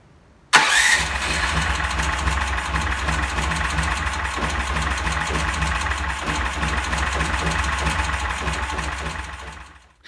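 An engine with an ignition system problem suddenly fires up after a moment of quiet and settles into a steady, loud idle that runs until it fades at the end.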